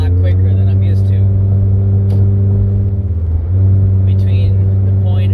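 A Scion's engine, fitted with a HIKEIT X9 throttle response controller, drones loud and steady with a brief dip midway before resuming, while a voice speaks faintly at moments.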